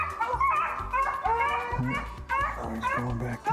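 A hare-hunting dog at the edge of the woods gives short barks, yips and whimpers in uneven bursts nearby, while someone talks over it.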